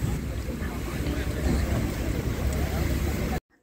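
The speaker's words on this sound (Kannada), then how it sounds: "ಸ್ಪೀಡ್ ಬೋಟ್ ಮುಖಾಂತರ ನಮ್ಮನ್ನು ಕರೆದುಕೊಂಡು ಹೋಗಿದ್ದರು." A speedboat races across the sea toward Nusa Penida Island, a loud continuous roar of engine, wind and spray that cuts off abruptly at the end.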